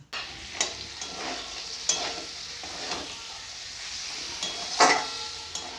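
Fried cauliflower and cashews are stirred into a frying spice paste, with soft sizzling beneath occasional scraping and clinking strokes of a spoon against the pan, close but fairly quiet.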